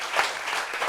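An audience claps at a live talk show, a brief burst of dense applause that swells and fades within a second, fairly loud and close with no clear voices over it.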